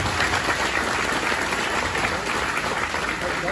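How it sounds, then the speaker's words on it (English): Steady applause from a crowd of about a thousand people at an evening Pete Rose event in Manchester, Tennessee, dense and continuous for the whole stretch without letting up. "Everybody give yourself a round of applause for showing up tonight."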